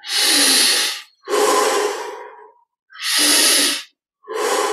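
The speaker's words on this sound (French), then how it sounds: "20 respirations profondes." Deep breaths taken during a guided yoga meditation come as loud, close, slow, rushing inhales and exhales in a regular rhythm, with no talking.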